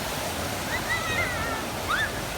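Water rushes in a steady, even wash down the middle of a road near a mountain valley stream at Hangyeryeong in Gangwon-do, with a few faint bird chirps above the flow.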